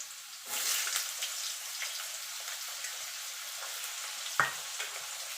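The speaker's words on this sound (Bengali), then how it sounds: "আলুটা দিয়ে আলুটা একটুখানি ভাজা ভাজা করে নেব।" Cut potato pieces sizzle in hot oil seasoned with black cumin in a pan, making a steady, fine crackling hiss that swells as they drop in, followed by a single sharp clatter of a utensil.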